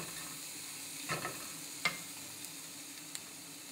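A sugar and spice mix for Vietnamese spicy beef noodle soup stirred in a pan, soft sizzling with a couple of quiet spoon scrapes and a light tap, close and without voices.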